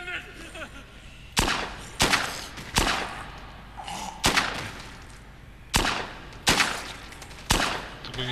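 Sharp, punchy gunshots in the video game Dead Rising 2 ring out in about eight separate bursts at irregular intervals, with a low background murmur between them.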